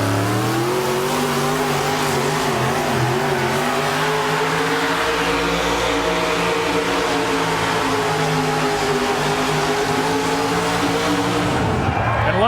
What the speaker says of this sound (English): Man, that thing was singing at full song. What a beautiful sounding engine.